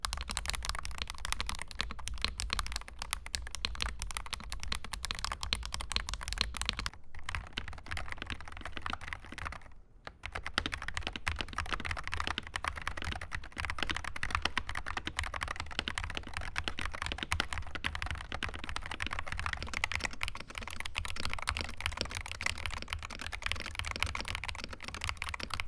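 Typing on a Kreo Hive 75 Hall effect magnetic keyboard, a long run of rapid, even key clicks and clacks recorded up close, with two brief pauses in the stream and no speech.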